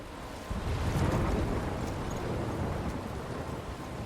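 A thunderstorm in the video game Life Is Strange: steady, loud rumbling and windy, rain-like roar that swells after the first half second and holds as a dense wash of storm noise with no voices.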